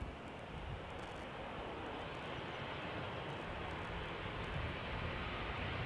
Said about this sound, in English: This is KLM flight 925 going to Edinburgh. Another 737-800.